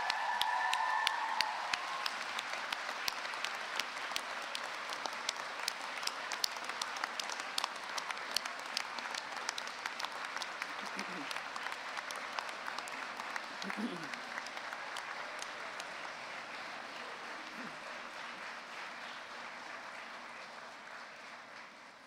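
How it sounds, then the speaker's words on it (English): Graduates at a Bath Spa University graduation ceremony give their supporters a long round of applause, a steady, dense mass of clapping from a large crowd that holds for over twenty seconds and fades slightly toward the end. "give them an enormous, loud and prolonged round of applause"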